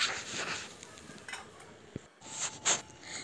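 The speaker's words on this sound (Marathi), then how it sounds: "आता यावर झाकण ठेवून देऊ।" A lid is set on a cooking pot of chicken sautéing over medium flame for a spicy curry: one brief metallic clink over faint background sizzling and soft kitchen clatter.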